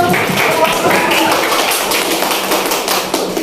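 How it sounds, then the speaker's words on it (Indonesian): Students in a classroom clapping their hands for a classmate during an Islamic history lesson, a dense burst of quick claps that thins out slightly toward the end, with faint voices behind. "tepuk tangan untuk"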